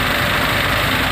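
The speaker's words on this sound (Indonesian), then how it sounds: "Oke, kita akan starter mobil." A car engine idles steadily at close range, a loud, even, low rumble with a constant hum and no break over a second or so.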